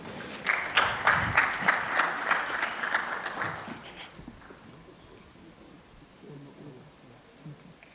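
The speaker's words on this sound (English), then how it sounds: "Please, can we give them a round of applause" Audience at an annual technical symposium breaking into a burst of applause, loud rhythmic clapping for about three seconds that fades away into quiet room noise.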